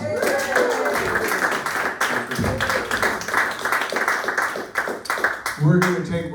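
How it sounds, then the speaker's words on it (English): A live audience claps and cheers for poet Ricky Jean at a spoken word gathering in an art gallery, a dense, steady ovation with voices and whoops mixed in throughout. "Another round of applause for Ricky Jean."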